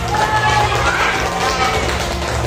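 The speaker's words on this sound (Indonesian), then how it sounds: "Oh berarti tepuk tangan untuk kelompok 2 Pak." A classroom of students claps for group 2, steady close-up applause forming a dense, even patter with some voices mixed in.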